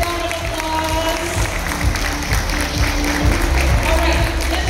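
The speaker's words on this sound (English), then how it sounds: "How about a big round of applause?" A wedding crowd applauding the newly married couple, sustained clapping with some cheering that stays steady and fairly loud throughout, with a voice faintly audible underneath.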